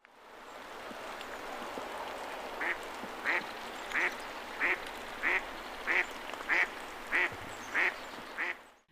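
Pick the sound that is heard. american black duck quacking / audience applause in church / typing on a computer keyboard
american black duck quacking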